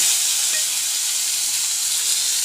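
Dry red chilli, bay leaf, whole cumin, asafoetida and tomato fry in hot oil, giving a dense, continuous hissing sizzle with no pauses.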